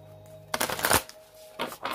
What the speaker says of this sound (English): let me shuffle one more time here